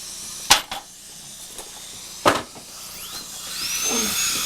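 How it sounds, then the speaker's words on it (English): A dentist's drill whines in short high bursts while teeth are worked on in a dental office, with sharp clicks and thumps between them and a rising whir near the end. "the only thing we're drilling are the teeth"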